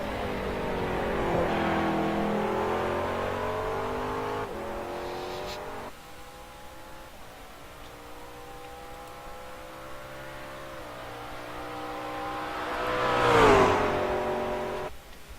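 A race car crosses the start-finish line while leading a lap, engine note climbing through gear changes, then approaching and sweeping past close by with a rising and falling pitch, loud and alone.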